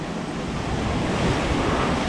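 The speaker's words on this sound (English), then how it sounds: "The wind's getting stronger and stronger." A strong typhoon wind roars steadily outside in Naga City, Bicol, Philippines, with heavy broadband rushing and low rumble throughout, loud and continuous; loose things rattle somewhere within the storm noise.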